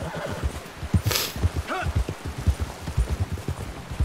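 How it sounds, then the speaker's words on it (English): Horse hooves gallop in steady clip-clop rhythm in Red Dead Redemption 2, with a brief whinny and snort midway, moderately loud and close, with no talk over it. "Stay quiet as we gallop through."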